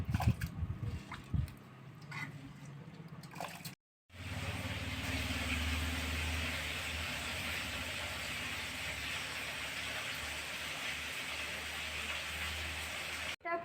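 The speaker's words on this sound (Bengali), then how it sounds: "আমার জলটা গরম হয়ে গেছে আমি এবারে চালটা দিয়ে দিচ্ছি" Rice poured into a pot of hot water on the stove, a brief scatter of light taps and rustles, then a sudden cut to a steady, loud broadband hiss and seethe of boiling water that continues evenly to the end.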